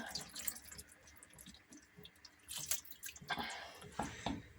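Water poured from a tea glass into a cooking pot of carrot and leek stew, a faint trickling and splashing with small drips close by, under brief speech.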